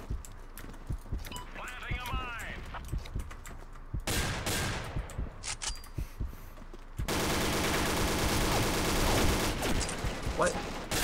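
Guns fire in the game Combat Arms Reloaded in sharp bursts and rapid volleys, some clustered and some spread out, with a dense stretch of continuous fire near the end.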